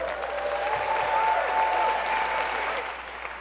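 A crowd gives warm applause for a lifetime achievement award, steady clapping at moderate level with a faint whistle-like tone over it, fading slightly at the end.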